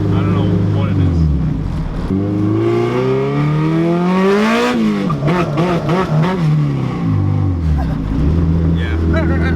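A K-swapped Honda Civic EG's engine drones loudly from inside the car while driving, its pitch sagging, climbing and dropping again as the power falters and returns.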